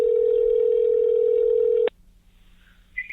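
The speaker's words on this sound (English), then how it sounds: "And Jeff, let's get on the phone now with Bodega Bamz." A steady, loud telephone dial tone hums for nearly two seconds during a call-in radio show, then cuts off abruptly, leaving a quiet line and a faint chirp near the end.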